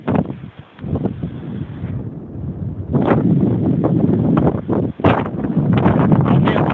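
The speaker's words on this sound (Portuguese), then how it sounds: "Esse som desse vento batendo eucalipto." Strong wind gusts at the beach rush through eucalyptus trees, a loud, steady roar of buffeting and rustling that swells sharply in a few bursts, with no other sounds.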